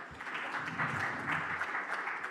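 Audience applause at a French public debate in 2021, a dense, steady clapping from a crowd, moderately distant and fairly faint, alone without talk.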